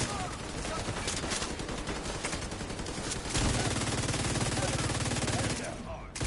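Rapid bursts of automatic gunfire fill a shooter video game match, dense and continuous, growing heavier and louder partway through before cutting off at the end, with a voice talking faintly underneath.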